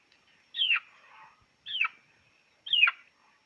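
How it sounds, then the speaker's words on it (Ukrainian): A young rooster bought at a village market gives three short, rising-then-falling calls about a second apart, close and fairly clear against a quiet background. "Ось такий півник."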